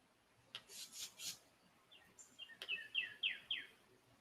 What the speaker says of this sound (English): Some of it is cicadas. And birds? Some of it are birds, yep.